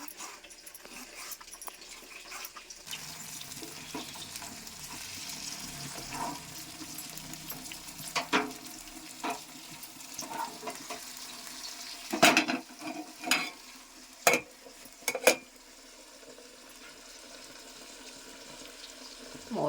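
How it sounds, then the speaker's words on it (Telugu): Green chillies fry in a pan on a gas stove, a steady soft sizzle near the mic, punctuated by several sharp pops and clatters in the second half, with no talking. "గ్యాస్ మీద స్టవ్ ఆన్ చేసేసి పచ్చిమిర్చిని అయితే వేయిస్తున్నాను"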